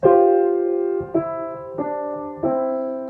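Four sustained piano chords struck one after another, each ringing out and decaying before the next, played close and clear with no voices.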